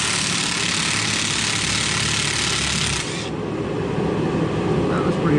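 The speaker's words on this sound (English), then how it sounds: "This is the brushless 3/8 M12 stubby impact wrench." A brushless 3/8-inch M12 stubby impact wrench runs at close range with a dense, steady mechanical whir and roar. The tone shifts partway through as the tool's load changes.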